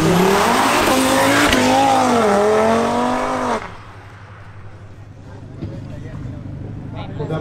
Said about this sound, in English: The first duel is between Angel Molina's BMW M340i xDrive and Mili Montilla's Audi RS3.